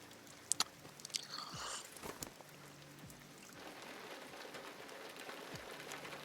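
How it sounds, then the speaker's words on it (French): Rain falls in the video game Detroit: Become Human, a steady hiss of drops spattering on surfaces with scattered crisp ticks and a few sharper splashes, continuous throughout without speech. "Et ben marchons sous la pluie, Amanda."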